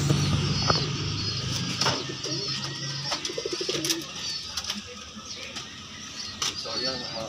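Pigeons coo in a loft, soft repeated throaty calls mixed with wing flutters and scattered chirps, while someone talks over them nearby.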